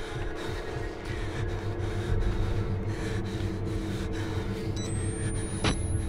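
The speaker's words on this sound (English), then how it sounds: "Is that me breathing?" Heavy, steady breathing of a character in the horror game Outlast Whistleblower, with rhythmic in-and-out breaths under a constant low ambient drone and a sharp sound near the end.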